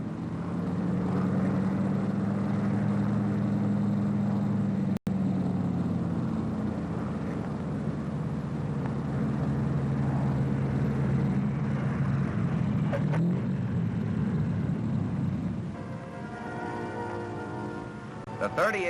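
A P-38 fighter airplane engine drones in flight, a steady loud hum that holds for most of the stretch before easing and thinning near the end, with no one talking.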